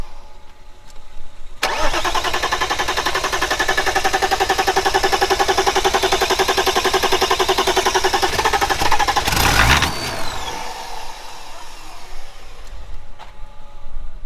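A swapped BMW 325 tds diesel engine cranks and catches, then runs with a loud, even clatter, gives a sharp burst after several seconds and settles into a quieter idle.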